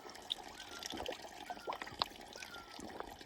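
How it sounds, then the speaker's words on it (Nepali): Cold water from a mountain spring trickles and drips in a faint, quiet stream, with small splashing plinks scattered over a soft continuous flow. "यो चाहिँ उतो डाँडाबाट फुटेर आउने पानी हो"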